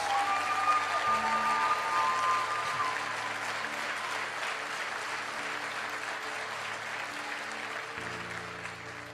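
An audience at a motivational speaking event breaks into loud, sustained applause, with dense clapping that carries on steadily throughout and fades slightly toward the end.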